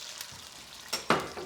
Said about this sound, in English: I'm just gonna put a squirt of white wine in here